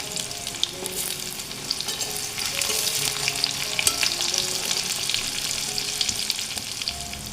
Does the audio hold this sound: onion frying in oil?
yes